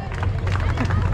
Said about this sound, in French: Toi qui applaudis sur le parcours et qui dis allez les derniers.